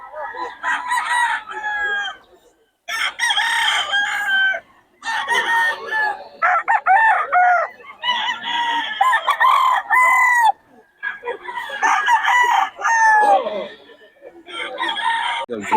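Young roosters (stags) crow repeatedly and loudly up close in overlapping bursts, with short clucks and brief gaps between calls.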